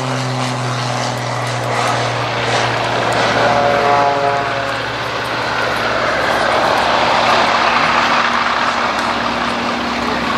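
An Extra 330SC aerobatic propeller plane takes off at Sywell airfield, its loud, steady engine drone building and holding close by throughout, with a faint rising tone partway through.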